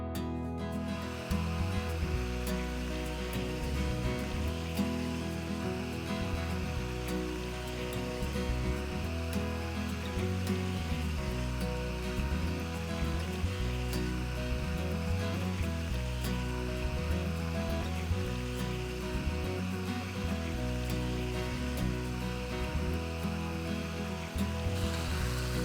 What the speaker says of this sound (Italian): un po' di sale grosso, copriamo e facciamo cuocere per un'oretta circa